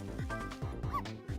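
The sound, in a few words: dog barking in the video game Ghost Trick: Phantom Detective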